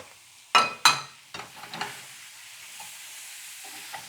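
Rice is stirred in a pan while tofu cooks, with two sharp scraping strokes near the start, a few softer clatters, then a faint, steady sizzle fading under quiet hiss.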